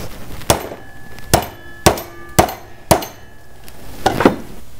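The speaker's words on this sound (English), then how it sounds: "So I'm going to hammer this down." Six sharp metallic hammer strikes on a metal fork ring out at a steady pace, each with a short clanging ring, close and loud.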